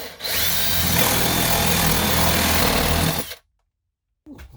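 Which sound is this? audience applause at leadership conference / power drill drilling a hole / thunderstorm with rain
power drill drilling a hole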